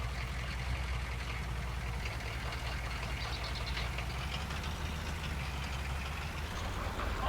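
A low tractor engine drone runs continuously in Farming Simulator 22, straining and rumbling steadily at moderate volume without much change, with no voices.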